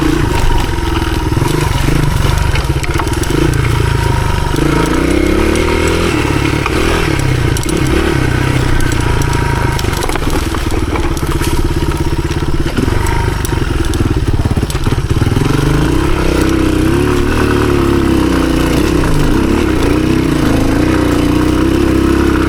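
A 1983 Honda XR200R dirt bike engine pulls steadily in second gear with a slipping clutch on an enduro trail, a loud, close, continuous single-cylinder drone with clattering and rising and falling revs, no voices.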